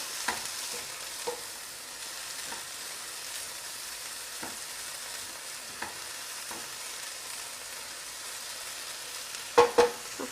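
Chicken and leeks frying in a pan for a pie, a steady soft sizzle running throughout with occasional faint clinks and stirring sounds, and a couple of sharper knocks at the very end.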